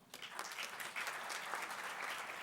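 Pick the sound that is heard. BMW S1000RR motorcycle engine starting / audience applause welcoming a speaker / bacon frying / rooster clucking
audience applause welcoming a speaker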